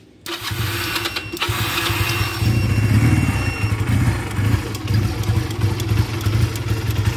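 An engine is started using the choke, catching abruptly and then running loudly and roughly with a clattering, uneven idle that fills the whole stretch.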